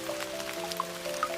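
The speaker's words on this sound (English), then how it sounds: "the rain's patter" Steady rain patters on surfaces outside a quiet bindery, a dense even wash with occasional louder drips, and no voices.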